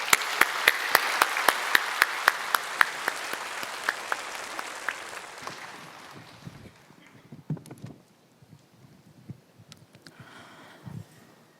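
Church congregation applauding a woman church deacon as she comes forward to give a testimony at an Easter service: dense, steady clapping from many hands fills the first six seconds, then fades into scattered claps, shuffling and low room noise.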